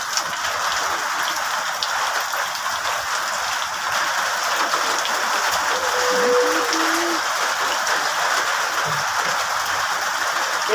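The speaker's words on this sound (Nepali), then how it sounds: "यस्तो असिना त कहिले परेको थिएन" Hail pours down across a field, a dense steady hiss of countless small impacts that stays loud and unbroken throughout, with no voices heard.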